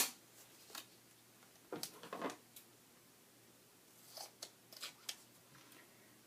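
Scissors snip a small piece of masking tape up close, a few quiet crisp cuts and light crinkles in an otherwise hushed room.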